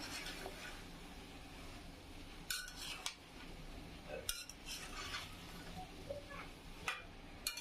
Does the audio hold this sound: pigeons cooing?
no